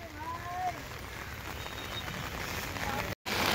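Steady rain falls around Nainital lake, a dense, even hiss of drops holding at one level throughout, broken only by a brief cut near the end.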